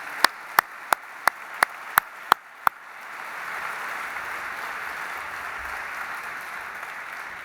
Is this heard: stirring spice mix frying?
no